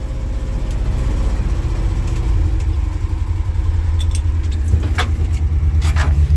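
An old Flatfender Jeep engine runs steadily with a low rumbling drone as it drives into a snowbank, close and loud, with faint metallic rattles and clinks over the engine.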